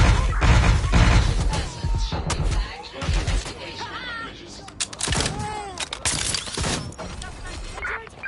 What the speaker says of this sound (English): this sounds like gunfire